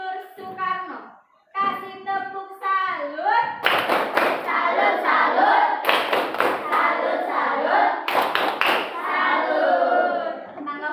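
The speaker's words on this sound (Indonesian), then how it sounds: "Kasih tepuk salut dulu untuk kelompok Insinyur Soekarno." Children clap a rhythmic 'tepuk salut' cheer together in a classroom, sharp bursts of hand claps and thumps mixed with chanting voices, loud and close, with the children also singing or speaking between claps.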